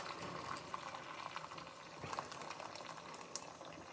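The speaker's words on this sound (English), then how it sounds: "from my kettle, I'm going to grab my hot water and fill them up about halfway" Hot water poured from a kettle into baking dishes for a water bath, a faint trickling and splashing stream with small gurgles, quiet and close.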